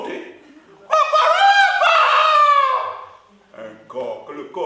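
A storyteller's voice imitates a rooster crowing, one long, loud, close cock-a-doodle call that rises and falls, followed by a brief burst of voice afterward.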